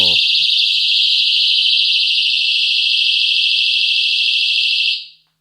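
A personal security alarm, a small clip-on gadget with a flashing light, shrieks at very high pitch, steady and piercing for about five seconds before cutting off, with a brief bit of talk at the very start.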